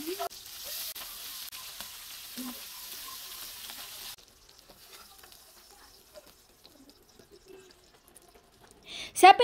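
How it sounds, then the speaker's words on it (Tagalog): Galunggong fish sizzling as it fries in a pan: a steady hiss for about four seconds, then near quiet with faint scattered clicks and a short louder clatter at the end. "kailangan muna ay pirituhin natin ito para mas masarap pa"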